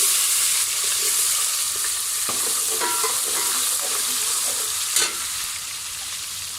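Onions sizzle and fry in a pan while being prepared for stuffed okra, giving a steady broadband hiss with occasional stirring scrapes and a sharper clatter near the end.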